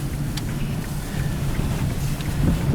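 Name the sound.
strong gust of wind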